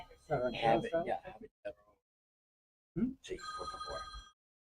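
A mobile phone rings during an in-person public meeting, a bright electronic tone that sounds near the end and cuts through nearby speech.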